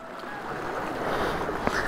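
A scooter crosses a stream on a rough mountain road toward Dhorpatan, with a steady, close wash of rushing water swelling slightly over the two seconds and a brief knock near the end.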